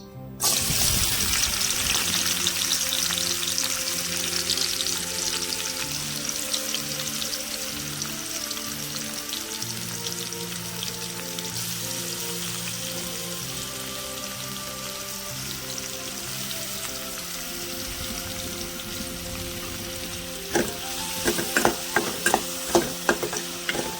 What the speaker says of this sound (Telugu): మనం కట్ చేసి పెట్టుకున్న ఉల్లిగడ్డ ముక్కలు, పచ్చిమిర్చి వేసుకుందామండి తాలింపులో